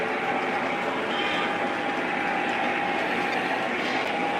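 Lionel and MTH model trains running laps around a track, a continuous rolling rumble with a steady humming tone and faint clickety-clack, even and moderately loud throughout with no talking.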